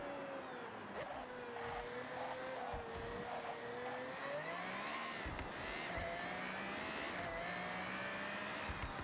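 A Pagani Huayra R racing in the Forza Horizon driving game gives a steady, high-pitched engine whine that rises and falls as the revs change, continuous and fairly quiet over a rough road-noise background.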